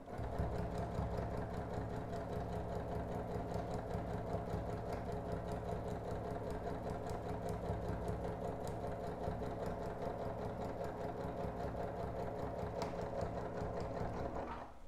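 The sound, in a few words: sewing machine stitching a straight seam on quilt fabric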